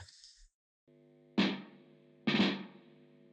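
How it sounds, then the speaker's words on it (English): A snare drum played through a big amplifier with the amp's reverb on: two loud, sharp hits about a second apart, each trailing a reverb tail, over a steady amp hum. "Is that the reverb on the amp?"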